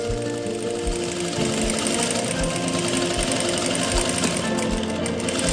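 A sewing machine stitches a zip into a plazo pocket, running in a fast, continuous mechanical chatter with steady needle thumps, close and loud without pauses or talk.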